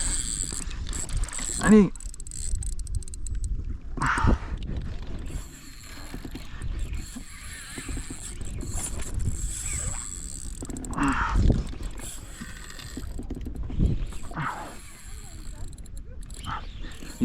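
A fishing reel's drag ratchets and whirs as a big catfish strips line during a float-fishing fight from a kayak, with clicking bursts coming and going over water noise and occasional short shouts.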